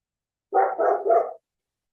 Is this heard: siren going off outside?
no